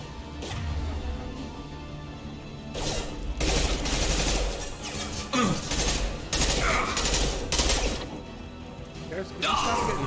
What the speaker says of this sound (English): Can you stop getting shot,